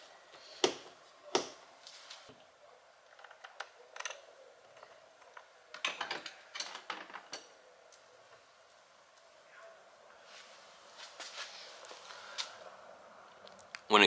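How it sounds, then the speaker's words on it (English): Screws being removed from a Mazda CX-90 door panel, with scattered small clicks, ratcheting ticks and metallic taps, close and fairly quiet, in irregular bursts. "So now we'll just go ahead and remove the 3 screws."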